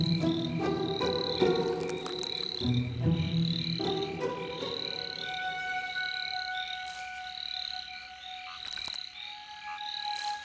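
Male Omei whipping frogs call at a pond at night during breeding season, a chorus of repeated croaks and whip-like notes layered over steady insect and cricket trilling, close and without voices.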